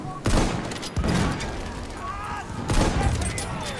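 Bursts of rapid gunfire from the video game Battlefield 1 crack out in two loud volleys separated by a short lull, with a player talking between the shots.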